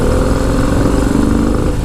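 A 2025 Harley-Davidson Low Rider S engine braking, a loud, close, throbbing rumble with rapid uneven pulses, continuous and alone.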